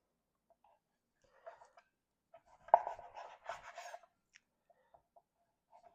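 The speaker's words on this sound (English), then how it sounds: "Alright, let me cut it lengthwise." A knife cuts a whole cauliflower in half lengthwise, giving soft, sparse crunches and crisp snaps with a denser burst of cutting in the middle, close by in an otherwise quiet room.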